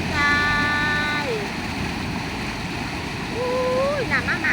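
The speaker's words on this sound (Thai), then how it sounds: "อู้ยน้ำมากๆพี่น้องจ้า" Heavy runoff from torrential rain rushes down from hillside slopes onto a road, a steady broadband roar of churning water that stays loud throughout, with a person talking over it.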